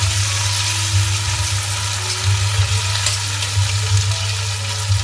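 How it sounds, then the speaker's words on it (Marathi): Tomatoes fry with browned onion in a pan, a dense, even sizzle close by with a low rumble beneath and occasional stirring bumps throughout. "आता मी टमाटर घालते टमाटर पण चांगलं परतून घ्यायचं आहे"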